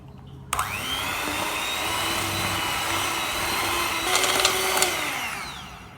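A hand mixer kneads coffee bun dough with a steady, loud motor whine that starts abruptly, holds for about four seconds with brief rattling near the end, then winds down.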